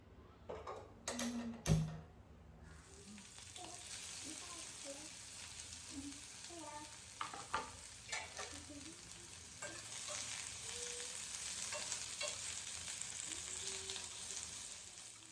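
Thinly sliced onion, capsicum and tomato sizzle steadily in a pan, with a few sharp clatters of a spoon against it at the start and softer scraping taps as the vegetables are stirred, under occasional quiet speech.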